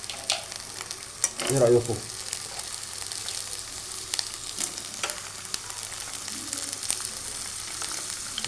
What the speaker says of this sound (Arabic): معانا الفاصوليا بتاعتنا المنقوعة، هنديها تشويحة جميلة كده